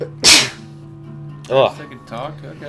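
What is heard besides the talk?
sneeze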